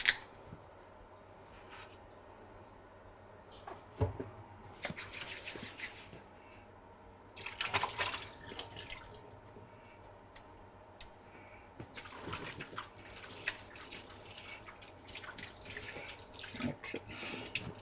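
A tap runs into a sink as hands are washed, a steady low wash of water broken by uneven splashes and clatters, with no talk.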